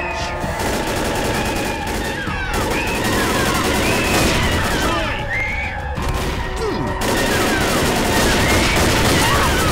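Gunfire in the game Left 4 Dead, including sniper rifle shots, a dense run of sharp repeated bursts and crashes mixed with game effects and chaotic noise, loud and close throughout.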